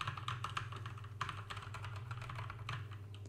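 Rapid, steady typing on a computer keyboard picked up by a Razer Siren X microphone, a continuous close stream of crisp key clicks over a low background hum.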